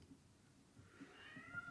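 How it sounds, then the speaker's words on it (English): A cat meows faintly indoors, a rising drawn-out call near the end over a low background hum, quiet and without speech. "Sorry for my cat, it's going crazy."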